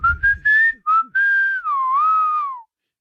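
A person whistles to call a dog named Robbie, giving a few short bright chirps and then a longer rising-and-falling whistle, close and clear, with no talking.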